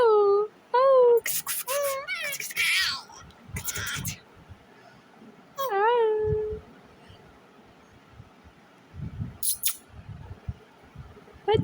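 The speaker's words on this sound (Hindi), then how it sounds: "हंस रही है बिल्ली, हंस रही है" A pet cat gives several short meows, close and clear, separated by quiet gaps, with rustling and handling noises around them and no other sounds competing.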